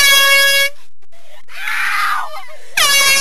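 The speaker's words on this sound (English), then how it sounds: "Nicholas, give me the fucking air horn." Two loud air horn blasts, one at the start and one near the end, with a shout between them.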